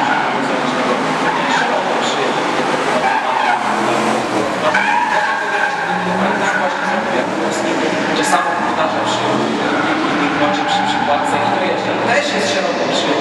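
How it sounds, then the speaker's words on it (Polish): Drift car at the Drift Masters GP qualifying in Toruń 2017, engine revving hard and tyres skidding continuously, loud and close, with a commentator talking over it throughout. "Słyszymy, jak pięknie brzmi silnik na samochodzie."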